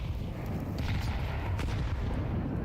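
Grenades going off in a Counter-Strike 2 match on the Ancient map at a major tournament, a rumbling boom with dull low-end thuds and a brief sharper crack, heard as a continuous muffled roar.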